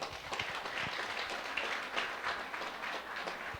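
A congregation at a church anniversary program applauds in a faint, steady patter of many hands clapping for a few seconds, with no talking.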